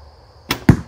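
Light arrow loosed from a 100 lb Han-style bow: a sharp snap of the string followed about two tenths of a second later by a heavier thud, loud and close with no voices.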